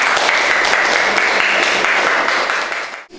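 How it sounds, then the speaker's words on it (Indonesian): Classroom applause for a student group, a dense, steady wash of many hands clapping at close range that holds for about three seconds before breaking off abruptly. "tepuk tangan untuk kelompok 3"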